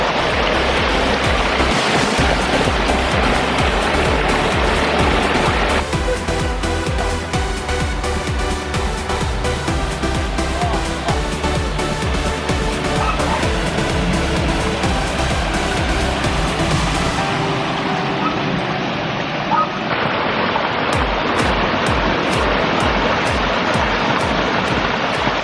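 A backyard pond water feature's waterfall pours in a loud, continuous rush of splashing water that holds steady, then shifts in tone partway through, with no speech.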